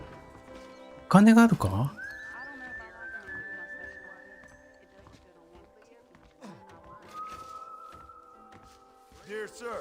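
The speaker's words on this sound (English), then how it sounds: "And here's the corral. This one's for the horses." A horse whinnies loudly at a corral in the Red Dead Redemption video game: one sharp, brief burst near the start, then quieter sustained whistle-like tones, with game voices talking throughout.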